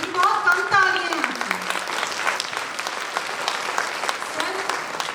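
Audience applauding at a literature festival in Haldwani, a steady patter of clapping lasting several seconds, with a voice briefly heard over its opening moments.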